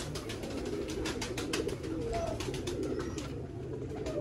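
Teddy pigeons coo continuously in a low, layered rumble, with scattered softer calls over a steady background and no clear talk.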